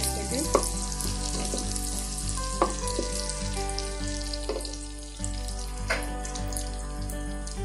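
Onions frying in oil in a pan, browning with a continuous loud sizzle and occasional sharp stirring knocks, heard close with no talk.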